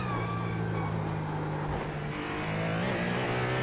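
A Ferrari race car engine in the iRacing simulator, a steady high-pitched droning whine under load, holding close and loud with a brief dip and pitch shift partway through.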